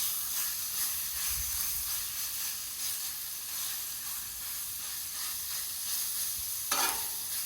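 Steady, broadband sizzle of chicken searing on a hot Blackstone flat griddle, with a brief scrape near the end and no talking.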